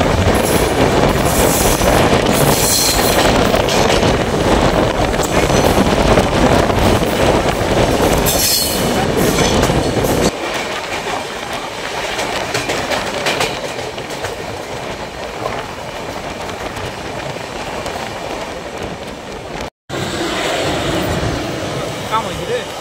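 Saraighat Express running on rails from West Bengal toward Assam, passing Burdwan-area villages: a loud, steady rumble and rattle with wheel squeal, dropping to a quieter roll halfway through, with a brief cut near the end.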